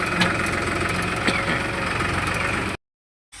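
A tractor engine idles close by with a steady, throbbing drone and faint knocking, then cuts off abruptly into silence.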